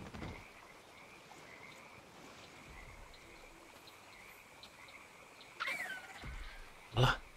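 A frog in ARK: Survival Evolved croaks several times over a steady buzzing ambience, with loud, sharp calls toward the end of the clip.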